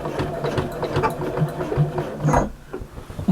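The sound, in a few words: sewing machine stitching across bag layers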